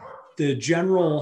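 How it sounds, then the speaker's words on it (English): A dog barks somewhere in the background of an indoor podcast recording, its short yips and whimpering bursts largely overlapped by someone talking close to the microphone. "apologies for the dog in the background"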